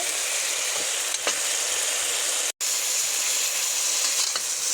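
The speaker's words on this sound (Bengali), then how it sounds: "তো ভাজি আমি আবারও নেড়ে দিচ্ছি।" A vegetable bhaji fries steadily in a pan, with a loud continuous close sizzle and occasional scrapes of stirring, briefly cut off once.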